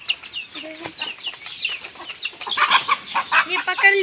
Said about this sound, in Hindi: एक मुर्गी बाहर निकल गई है, अब नौफिल खान से पकड़ेगा।